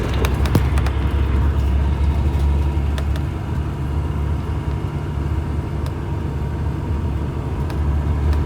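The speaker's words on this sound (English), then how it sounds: "Here comes a Q60 bus for line 7." A Q60 bus on a New York street approaches with a steady low engine rumble under traffic noise, with a few sharp clicks early on and no talking.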